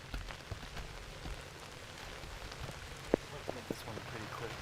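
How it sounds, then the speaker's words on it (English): Steady rain patters on a surface outdoors, a soft continuous hiss broken by scattered louder drips and taps. "We are getting currently rained on"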